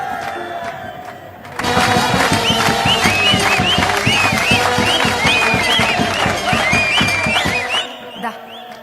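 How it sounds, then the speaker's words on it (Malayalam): A crowd of locals erupts into loud, sustained cheering and whistling to celebrate a victory. The roar follows a quieter opening and then tapers off near the end. "കണ്ട നാട്ടുകാർ ജയിച്ചെന്റെ ആർപ്പുവിളിയാ"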